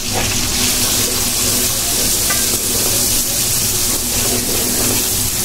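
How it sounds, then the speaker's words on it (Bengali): Spices and cumin seeds sizzle and fry in oil in a pan, a steady loud crackling hiss with scraping stirs running throughout, no voices. "মশলাটা একটু কষায় নিচ্ছি।"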